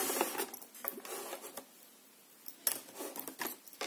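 A large die is fed through a manual die-cutting machine, giving close mechanical rumbling and clicking bursts with a quiet gap in the middle, then more grinding clatter.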